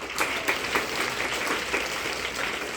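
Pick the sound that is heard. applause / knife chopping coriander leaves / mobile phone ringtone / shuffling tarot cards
applause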